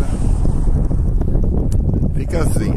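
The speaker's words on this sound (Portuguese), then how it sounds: "o vento tá forte" Strong wind gusts roar across the microphone during a brush fire near Itapura, a loud steady rush with someone talking over it throughout.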